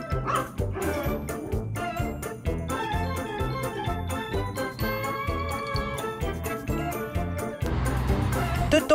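A dog barks and yips repeatedly in short bursts over loud, steady music with a strong pulsing beat that runs throughout.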